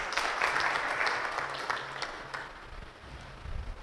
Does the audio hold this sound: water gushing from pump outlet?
no